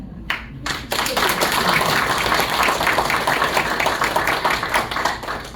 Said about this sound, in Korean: 박수를 치시려면 좀 힘차게.